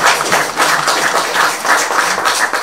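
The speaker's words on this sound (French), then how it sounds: "On l'applaudit bien fort" An audience at a tennis tournament event claps for a few seconds, a close, loud burst of many hands with a lively uneven rhythm.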